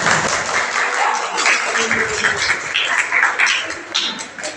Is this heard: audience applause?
yes